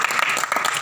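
Audience applause for actress Afreen Pari during a live Pakistani stage drama, a dense, steady wash of clapping from a crowd filling the whole brief moment.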